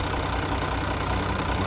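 A Massey Ferguson 1135 tractor engine idles in a steady, continuous low rumble, close and fairly loud, holding an even tone throughout with no voices over it.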